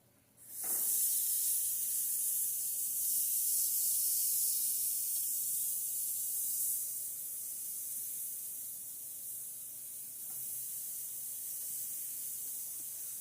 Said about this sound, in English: first I'm going to put it on this part to sear them